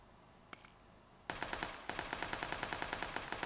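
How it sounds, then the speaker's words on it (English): Automatic gunfire in the video game PUBG, a short pop followed by rapid bursts of evenly spaced shots that carry on steadily, moderately loud and without talk. "that's people shooting at them"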